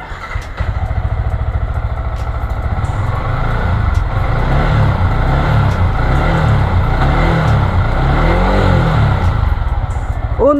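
A motorcycle engine idles steadily up close, a low throbbing rumble with slight revs, no talking.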